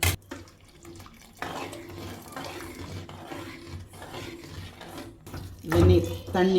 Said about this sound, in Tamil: வெந்நீரும் ஊற்றுறேன்